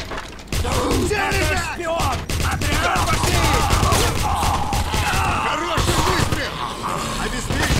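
Gunfire rattles through a Wolfenstein game session, bursts of automatic fire and shots mixed with shouting voices and mechanical clatter, dense and loud with hardly a pause.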